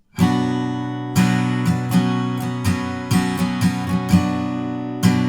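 Acoustic guitar plays the verse chords of a song, a steady strumming pattern of about a dozen crisp strokes, near and alone without any voice.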